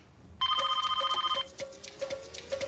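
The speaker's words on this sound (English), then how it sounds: "Go answer the phone!" A telephone bell rings loudly and close by in one long trilling burst, then gives way to fainter, irregular electronic chirps and clicks.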